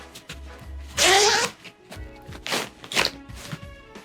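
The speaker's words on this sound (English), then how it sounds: "Got this front zipper." The front zipper of a canvas bag is pulled open in several quick rasping strokes, close and crisp, with soft rustling and handling between pulls.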